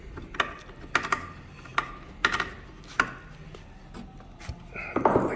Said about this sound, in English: I'm just going to tighten the heat block there.